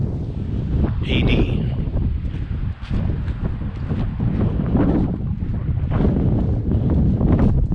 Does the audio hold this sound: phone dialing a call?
no